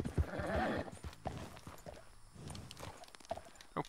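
Horse hooves clip-clop over ground in Red Dead Redemption 2, a faint, uneven run of soft thuds and knocks with a snort or neigh near the start.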